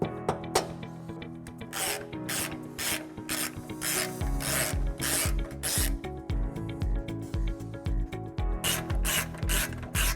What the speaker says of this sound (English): we're just going to have to scrape it off with a flathead screwdriver